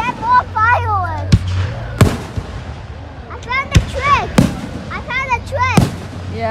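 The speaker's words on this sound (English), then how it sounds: "Hey, there's more fireworks." Fireworks bursting at a US Independence Day celebration: sharp, loud booms spaced irregularly, with people talking over them and whistling shells rising between explosions.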